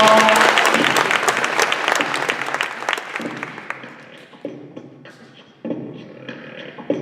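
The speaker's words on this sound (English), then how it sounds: "Yeah, give me a round of applause." A school assembly crowd applauds strongly at first, and the clapping gradually fades to scattered claps and chatter, with a brief swell near the end.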